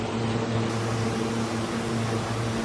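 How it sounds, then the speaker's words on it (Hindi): An air cooler motor, just switched on by remote through an Amonics smart cooler controller, runs with a steady close hum and fan whoosh, droning evenly with no talk. "ये देखिए मेरा कूलर चल गया।"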